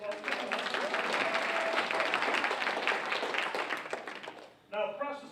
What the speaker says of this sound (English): Everybody give my lovely assistant, Jerry, a round of applause.